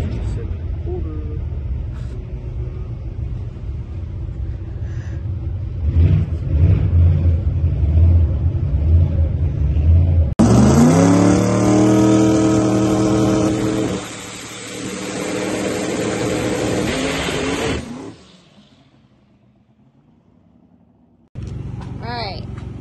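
A drag race car makes a pass at Union County Dragway. Voices and idling rumble come first, then a sudden loud engine blast climbs in pitch for several seconds before fading away.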